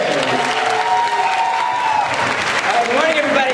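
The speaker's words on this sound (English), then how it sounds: "let's have a nice round of applause" Steady applause from a conference audience at a live demonstration session fills the room, a dense continuous clatter of many hands with light cheering mixed in.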